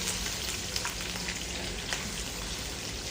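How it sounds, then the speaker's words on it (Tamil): Ingredients sautéing in hot oil in a pan, a dense, continuous, close crackling sizzle with steady loudness and faint spattering pops, with no voices. "இப்போ நான் எண்ணெயை போட்டு லைட்டாக மத வதக்கிக்கிறேன்."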